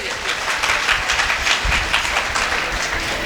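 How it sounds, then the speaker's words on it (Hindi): Audience at a spiritual satsang gathering breaking into applause, a loud, continuous patter of many hands clapping close by for the whole span, with a few voices faintly mixed in. "ताली बजाइए इन लोगों के लिए।"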